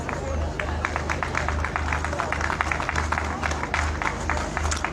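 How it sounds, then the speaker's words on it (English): Scattered applause rises around a dog show ring at a hound and utility championship show, steady clapping from a crowd spread at middle distance, with a constant low hum underneath and murmured voices in the background. "Smatterings of applause burst out around the ring."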